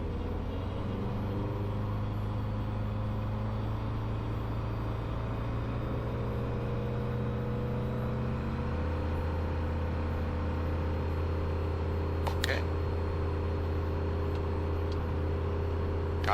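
A light aircraft engine runs up at about 4000 rpm in a steady, fairly quiet drone that holds a constant tone before shifting slightly, with a brief click partway through.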